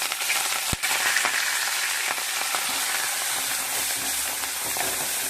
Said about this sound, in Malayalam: നമുക്ക് പൊന്നാങ്കണ്ണി ചീര ഇടാം